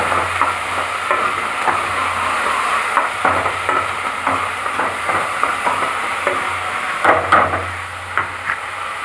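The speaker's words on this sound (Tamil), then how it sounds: "இந்த எண்ணெயிலேயே சுண்டைக்காயும் போட்டு வதக்கிடுங்க" Turkey berries sautéing in hot oil, a steady close sizzle with scattered stirring clatters and scrapes throughout, no voices.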